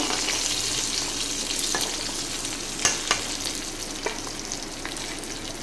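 Curry leaves fry in hot oil with a constant crackling sizzle. A few sharp spatula knocks against the pan come near the middle as the leaves are stirred. No voices.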